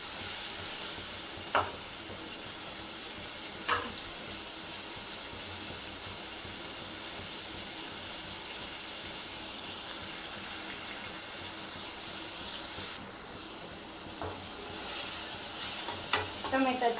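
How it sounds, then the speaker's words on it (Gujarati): Tomatoes cook in a pan for dal pakvan, giving a steady, even sizzle that holds throughout, with a few faint clinks and stirring sounds on top. "ટમેટાને ચડવા દેશું."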